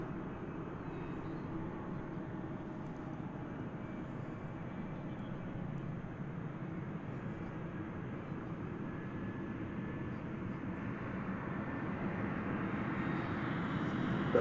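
A Delta airliner cleared for takeoff from runway 18 left at Dallas Fort Worth airport, a steady distant jet roar that slowly grows louder toward the end.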